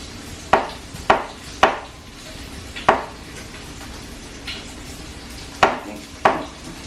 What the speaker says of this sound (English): I have to cut it into little tiny pieces